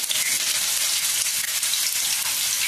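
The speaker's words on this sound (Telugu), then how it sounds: "ఆయిల్ అయితే కాగిందండి, ఇందులో వేస్తున్నాను కొంచెం ఉల్లిపాయలు." Small chopped onions dropped into heated oil for a chicken fry, crackling with a loud, steady, dense sizzle that fills the whole stretch without any talking.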